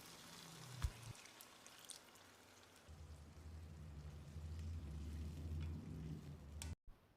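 Dissolved tamarind water is poured into a pan of sautéed tomatoes for ginger kulambu, a soft rushing splash that builds and holds for several seconds after a brief clink, then cuts off.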